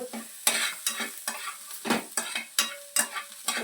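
Eggplant palya stirred and fried in a pan, with sharp rhythmic scraping strokes of a spatula, about eight in quick succession, over a soft close sizzle.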